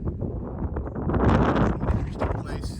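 Strong wind buffets the microphone on a high mountain trail at around 11,000 feet, with low rumbling gusts that swell in the middle and ease toward the end.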